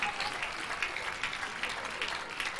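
Members of a church congregation applaud during a service, a sustained, even patter of many hands clapping at a moderate distance, with faint voices mixed in.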